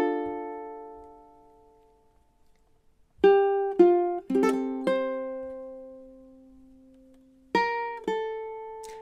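Measures 1 and 2 of a song, with the pickup bar, are played on ukulele as a lingering tail and then a sequence of plucked single notes with sustained ringing, gentle and close, alone without voices.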